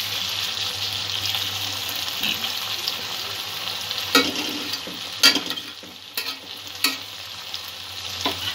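Spiced ingredients and sugar sautéing in a pan, with a steady sizzle throughout and several sharp spoon scrapes and knocks in the second half; no talking.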